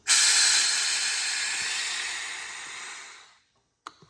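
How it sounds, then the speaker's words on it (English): The air suspension seat of a Cub Cadet Pro Z 972 zero-turn mower releases air in one sustained, loud, broad hiss that slowly tapers off over about three seconds, followed by a sharp click. "Air goes out. Air compressor pushes air back in."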